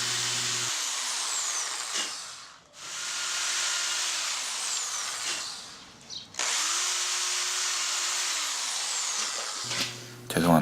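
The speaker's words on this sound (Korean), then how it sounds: "헤드머신이 들어갈 구멍을 뚫겠습니다" A power drill bores holes for ukulele tuning machines into a wooden headstock, whining in three long, steady bursts separated by short pauses.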